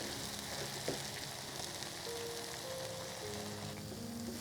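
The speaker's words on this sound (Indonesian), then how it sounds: "Nah ini kita tumis bumbunya hingga harum dan matang ya." Spice paste for Betawi soto fries in a pan with bay leaves and a piece of cinnamon, giving a continuous soft sizzle at low level with a faint tonal hum underneath.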